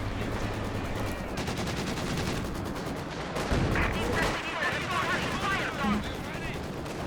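Walking Stuka rocket artillery in Company of Heroes 2 fires into a busy battlefield, a loud cluster of rocket launches and blasts midway through, layered over ongoing gunfire and a commentator's voice.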